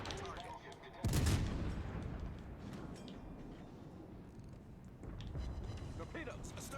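A heavy naval gun salvo in World of Warships Legends booms loudly once, then fades into a long rumbling tail under background game noise, with a softer burst of gunfire later.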